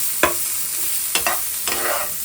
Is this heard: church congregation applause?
no